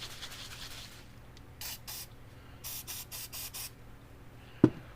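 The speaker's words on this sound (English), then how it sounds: "So we'll spray this on there." Aerosol can sprayed onto the cleaned terminals of a Parmak Solar Pak 6-volt solar fence charger, first a long hiss, then a series of short bursts in quick succession, ending with a sharp tap.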